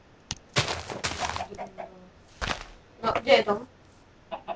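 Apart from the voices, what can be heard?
chicken clucking in Minecraft video game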